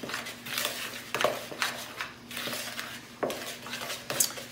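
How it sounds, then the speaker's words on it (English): A spoon stirs fruit cobbler dough in a bowl, producing repeated scraping and clinking strokes against the bowl in an uneven rhythm, close and moderately loud, with no voices. "you're just going to take a spoon and mix it till it becomes a dough."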